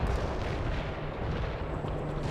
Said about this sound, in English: Heavy barrage annihilated the enemy coordinates.